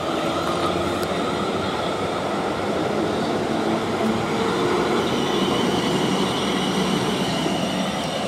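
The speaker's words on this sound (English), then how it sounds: "12 car set, departs Brookwood for Basingstoke." A South Western Railway Class 450 electric train, a 12-car set, departs Brookwood station for Basingstoke, giving a continuous close rumble of wheels on track with a faint squeal and rhythmic clatter, no talking.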